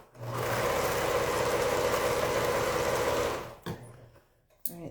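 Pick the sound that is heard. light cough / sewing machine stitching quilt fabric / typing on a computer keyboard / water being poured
sewing machine stitching quilt fabric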